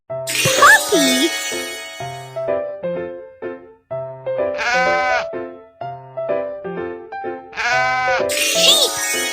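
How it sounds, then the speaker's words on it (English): Cartoon sheep bleating in a children's sound game, a string of loud, clear bleats repeated through the clip over a bright musical backing with chiming tones. "Sheep!"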